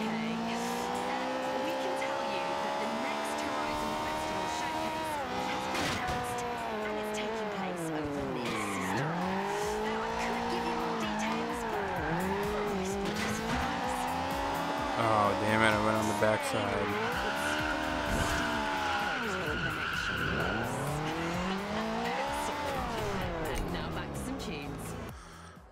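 A Toyota Supra in the Forza Horizon 2 video game drives and drifts with a continuous engine roar that rises and falls through gear changes, mixed with long tire squeals and skids. A voice talks over it at times.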